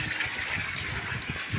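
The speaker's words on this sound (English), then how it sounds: "So if I open here, I'm expecting water to flow into that particular farm over there." Water gushes into a pond on an aquaponics farm, a steady, close rushing splash that holds constant for a moment with no voices over it.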